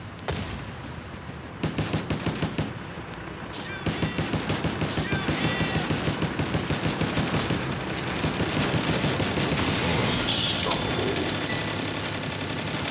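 Enemy gunfire in a war video game, steady rapid automatic bursts that build and keep firing over an engine-like rumble, loud and sustained throughout.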